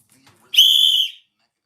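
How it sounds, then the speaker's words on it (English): A whistle gives a single loud, shrill blast of about two-thirds of a second that cuts off cleanly, with only faint background sounds before it. "somebody was upset because I blow my whistle and I shout"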